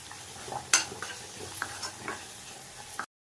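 Samosa filling is stirred in a frying pan, with soft sizzling under scattered scrapes and clinks of a spoon against the pan, one sharp clank early on, fairly close and quiet with no talking.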